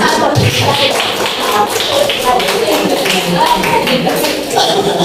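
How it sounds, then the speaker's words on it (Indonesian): Applause for a student group in a classroom teaching practice session, a burst of scattered claps and taps from a group of people, mixed with talking voices. "tepuk tangan untuk kelompok 1"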